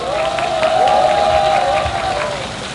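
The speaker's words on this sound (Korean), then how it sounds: "여러분 이 두 분 위해서 박수 한번 주십시오." A large outdoor rally crowd claps and cheers together, a thick continuous roar of applause with a sustained tonal hum over it, fading slightly toward the end.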